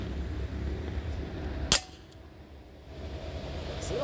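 A single sharp gunshot at an outdoor shooting range, loud and close, standing out against steady background noise, with no talking.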